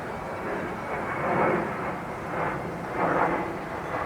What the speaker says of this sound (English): hear or see an airplane